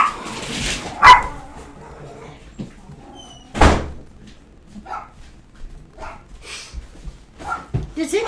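Dogs bark indoors at a house in a few sharp, loud outbursts with quieter yips between them, while a person talks nearby and a door seems to bang.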